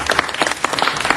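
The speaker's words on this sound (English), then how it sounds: "Let's give him a great round of applause." Brief applause in a city council chamber, with dense overlapping clapping from a small crowd, close and moderately loud, with no pause in the clapping.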